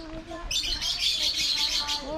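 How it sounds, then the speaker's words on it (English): Lovebirds at a bird park chirp in a dense, noisy chorus of high, rapid tweets, fairly close and continuous, with faint background sounds beneath. "look at these noisy little birds"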